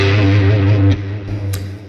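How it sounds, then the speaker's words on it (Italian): Electric guitar picked harder through a clean boost with slight distortion: one loud sustained chord that cuts off sharply, followed by a couple of quick, brighter pick attacks as the sound tails away. "pigiare un po' più forte con il plettro per avere una distorsione"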